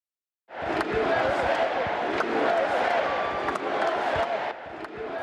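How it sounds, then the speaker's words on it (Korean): A crowd of about 25,000 at a political convention in a basketball arena cheers and chants, a dense roar that starts abruptly and holds steady, with scattered whoops rising above it. "2만 5천 명의 함성 소리가 미국 프로농구 NBA 밀워키 벅스의 홈구장을 가득 메웠습니다."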